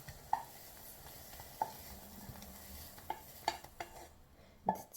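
Plantain being stirred in a pan at home, with a scattering of soft scraping and tapping strokes at an irregular pace over a quiet background.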